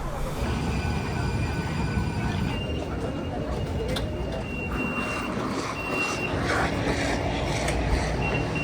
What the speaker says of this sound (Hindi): ट्रेन के अंदर मैं बैठ चुका हूँ।